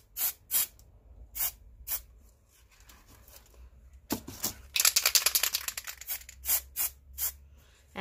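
Short bursts of Montana Marble spray paint hiss onto a Halloween skull, some quick puffs and one longer sustained spray, with pauses between them and a close, crisp sound.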